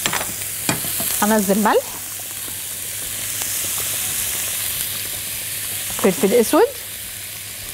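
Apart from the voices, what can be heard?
minced onion frying in butter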